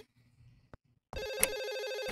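A telephone rings inside the horror game Reaping Sins, a bright, loud electronic trill that cuts in sharply about halfway through after a quiet stretch with a single soft knock, then rings steadily to the end with no talk.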